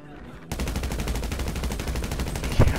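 Rapid, continuous gunfire in the video game Grand Theft Auto, a dense burst of loud shots starting abruptly after a brief quiet moment and rattling on steadily, with a heavier blast near the end.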